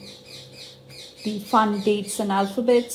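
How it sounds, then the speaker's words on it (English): Birds chirp and squawk in short bursts outside a house near a garden, faint behind someone talking close up, with a fountain trickling softly. "So that's why you may hear some birds in the background."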